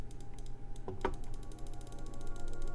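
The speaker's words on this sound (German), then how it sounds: "Man hört gleich meine Maus klickern" A computer mouse clicks during a Minecraft building session: a couple of sharp, close clicks near the middle, then a faint ticking over a steady electronic hum.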